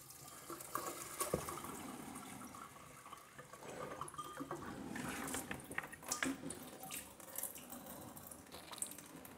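Liquid draining away in baijiu making, a faint close trickle and splash of water with scattered drips and clinks, no voices.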